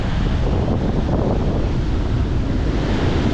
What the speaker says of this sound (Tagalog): maaga pa lang dito pero ang lakas na ng hangin